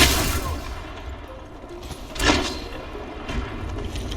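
Gunfire in the Apex Legends video game, with bursts of weapon shots and impacts over a busy, noisy battle background, loud and close, with a brief stronger blast midway.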